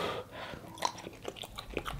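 Close, quiet mouth sounds of someone chewing very spicy fried chicken, soft wet crunches and bites in an irregular rhythm, no speech.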